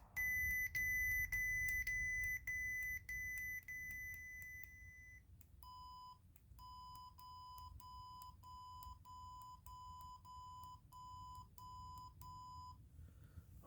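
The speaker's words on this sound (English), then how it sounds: "I think you'll hear the beep get quieter." Repeated electronic beeping, a rapid high-pitched series that pauses, then resumes at a lower pitch and noticeably softer, steady rhythm over low background hum.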